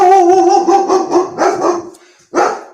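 A dog barks and whimpers in a run of short, tonal yelps, fairly loud and close, ending with one sharper bark after a brief pause.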